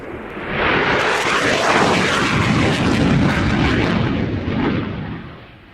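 A Belgian F-16AM fighter jet, the midlife-upgrade version, roars past as a loud, sustained broadband rumble that swells early, holds steady and fades toward the end.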